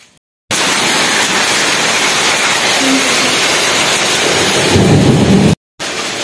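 Heavy rain pouring outside during a storm, a loud dense continuous rushing wash that cuts off abruptly twice, with a low rumble rising near the end like distant thunder.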